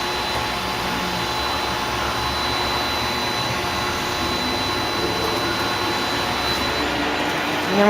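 A Tsugami BS-20BII CNC Swiss lathe hums with a steady loud whirring drone as its sub spindle axes move, broadband and continuous with a faint high whine throughout.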